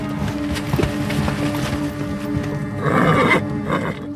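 Horses whinny and snort amid a busy rumble of hooves and movement, with a louder neigh rising near the end.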